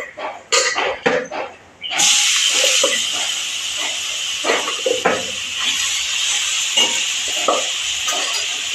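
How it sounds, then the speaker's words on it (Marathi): Tender jackfruit vegetable dropped into hot tempering with turmeric in home cooking, setting off a sudden loud, steady sizzle that follows a few brief clatters and continues hissing to the end. "आणि ही मी भाजी फोडणीला टाकणार आहे"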